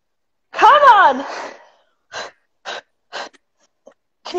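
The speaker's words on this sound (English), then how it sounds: "Can you hear me breathing? I'm panting." Heavy panting during a full-body workout: a strained vocal groan comes first, then four short, sharp breaths spaced about half a second apart, close and fairly loud against an otherwise quiet background.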